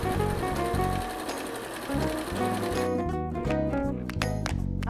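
A sewing machine stitches cushion-cover fabric, its needle running in quick, loud, rhythmic bursts with short pauses between runs, close to the listener and free of talk.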